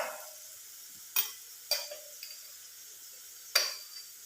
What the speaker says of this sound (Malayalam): എല്ലാം ഇട്ടൊന്ന് ഇളക്കിയിട്ട്